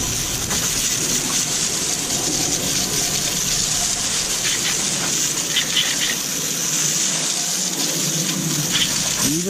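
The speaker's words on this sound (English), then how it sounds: "let's go ahead and rinse this off" A pressure hose rinsing brake cleaner and brake dust off car wheels, a loud, steady hissing spray of water close by that holds constant throughout.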